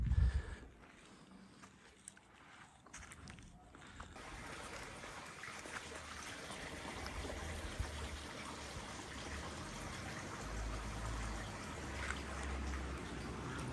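Water runs steadily from an old village fountain fed by an underground river, a soft continuous trickle and splash that grows slightly fuller after a quieter opening, heard close and without talk.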